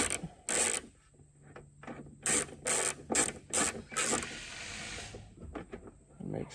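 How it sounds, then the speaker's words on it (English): Small 9/32 wrench working tiny nuts off car badge plates, giving a quiet series of short ratcheting clicks and scrapes in irregular bursts. "I'm going to use a 9/32 tiny wrench to get these off."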